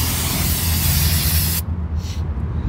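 Brake cleaner hisses in a loud, steady aerosol spray onto the brake parts of a Kia Forte, then cuts off abruptly, leaving a few faint clicks and handling noises.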